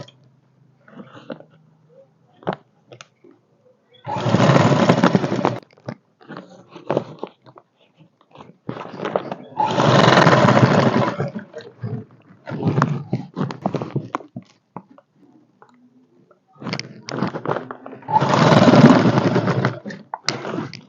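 A sewing machine stitches a folded-over fabric edge in three separate runs of rapid whirring stitching, each lasting a second or two. Quiet gaps with faint handling noises fall between the runs.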